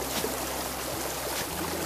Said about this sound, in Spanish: Un arroyo, una fuente.